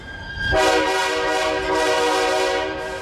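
A train rolls past on a once-a-year Appalachian holiday run, its horn sounding a long, steady blast over the rumble of the cars, loud and close from the moment it arrives.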